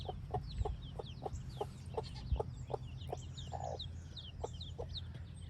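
Barred Rock chickens on pasture cluck in a steady run of short, evenly spaced calls at moderate distance, over a low rumbling background with faint birdsong.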